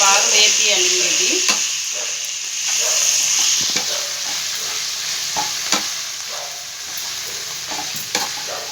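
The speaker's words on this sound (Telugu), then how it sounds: "ఇది బాగా వేపియాలండి" Fenugreek leaves fry in a pan for methi dal with a loud, steady, close sizzle, broken by occasional scrapes and taps of a spoon stirring, and no talk.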